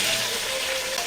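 Curry leaves and green chilies sizzle loudly in hot oil as part of a cabbage thoran, a steady, dense crackle filling the whole moment with no voices.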